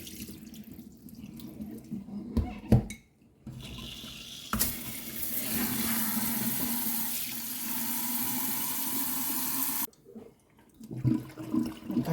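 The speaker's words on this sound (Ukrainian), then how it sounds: "промию гарно цей осад увесь, що в банці, його треба гарно вимити. Звичайною проточною водою." Running tap water pours into a glass jar as sediment is rinsed out. The water gives a steady, rushing splash that briefly stops and restarts, close and fairly loud, with no voices.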